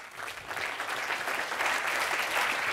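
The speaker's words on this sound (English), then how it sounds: "So an applause for Hidde Terpoorten." Audience applause at a blockchain keynote event at Nyenrode Business University, a thick continuous patter of clapping that swells slightly and stays steady to the end.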